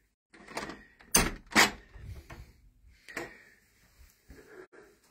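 A side door of a castle opens with a couple of loud, close thuds and clunks, followed by softer creaks and rattles of the latch and door as it swings.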